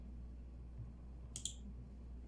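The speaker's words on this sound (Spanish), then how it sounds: "Doble clic." A computer mouse double-clicks during Photoshop work, giving two quick, sharp, close clicks in a row against a faint, quiet background.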